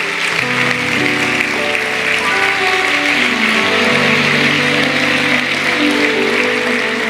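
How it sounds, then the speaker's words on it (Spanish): A church congregation claps loudly and steadily throughout, the applause sustained over music with held tones. "Ese aplauso dáselo fuerte, fuerte, fuerte, fuerte"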